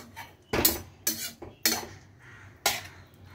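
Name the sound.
covering the cooking pot with a lid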